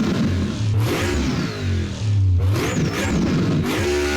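A modded car engine in a racing video game revs hard in two bursts, rising and falling in pitch with a growling, rowdy tone, loud and close with no talk over it.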